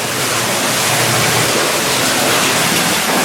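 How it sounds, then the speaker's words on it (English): A loud, steady rush of falling water fills an underground mine, a dense unbroken roar close by with no pauses or voices. "There's a waterfall right there"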